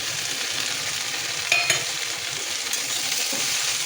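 Lightly fried mixed vegetables with moringa drumstick pods crackle in a pan in a steady close sizzle, broken by a couple of sharp utensil clinks as they are stirred.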